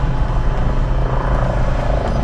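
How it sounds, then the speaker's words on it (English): An approaching air ambulance helicopter coming in to land, its steady heavy rotor and engine roar filling the scene at close range, loud and continuous with no talk. "Sounds like the helimed's coming back in, so that's going to get noisy and windy"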